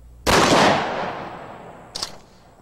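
Tactical shotgun fires a buckshot round in one loud, sharp blast that rings out and decays over about a second, followed by a shorter, quieter metallic report shortly after.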